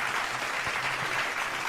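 A crowd at a political rally applauds, a dense continuous wash of clapping with no pauses, heard at moderate distance.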